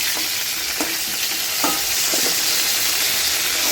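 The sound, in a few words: pointed gourd frying in oil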